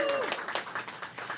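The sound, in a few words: applause for the speaker's home ward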